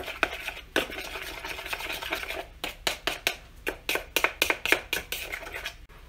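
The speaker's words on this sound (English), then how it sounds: "you just take a spoon and mix it all up real good" A spoon mixes steak sauce, yellow mustard and brown sugar in a bowl for a venison meatloaf topping, making close, rhythmic scraping and clinking strokes that speed into quick repeated bursts.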